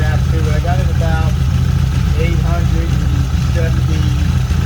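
A car engine fitted with dual Weber 34 ICT carburetors idles steadily with a low, even throb, while someone talks over it at close range.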